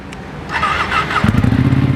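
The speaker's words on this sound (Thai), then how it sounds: "คันนี้มาพร้อมกับท่อแต่งจาก อะคาโปวิกนะครับมาเดี๋ยวเราฟังเสียงกันดีกว่า" A 2018 Ducati Panigale 959 Track-Evo with an Akrapovic aftermarket exhaust catches and fires up nearby, settling into a loud, throbbing, uneven idle rumble.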